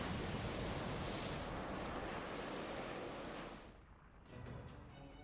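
Seawater rushing in from the video game Fate/Grand Order, as a broad roaring surge of water that stays loud for several seconds, then drops away before a quieter wash returns.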